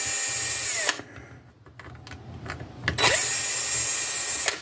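A power drill backs out screws holding a big chunk of aluminum on a transformer being scrapped, running loud and steady, pausing briefly in the middle, then whirring again.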